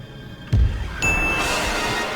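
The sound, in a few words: ding sound effect in a Resident Evil-style video game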